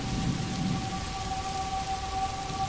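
Steady rain falling, a soft continuous hiss with low rumbling beneath and a faint tonal hum, even and unbroken, with no voices.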